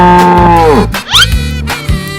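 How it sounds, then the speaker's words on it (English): A cartoon cow gives a loud, close moo, a long low drawn-out call that bends at the end, followed by a brief higher squeak and a short extra grunt, with no talk. "Cow."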